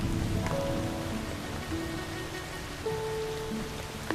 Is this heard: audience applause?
no